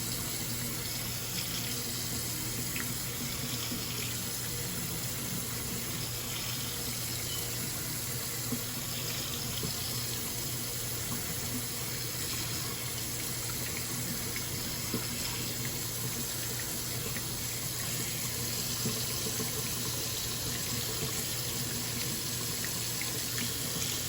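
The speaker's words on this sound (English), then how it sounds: "in between each scrape I'm going to go ahead and run it in the water and rinse it" Tap water runs steadily into a sink while an orange stick used for cleaning under fingernails is rinsed, a constant close splashing flow for the whole stretch.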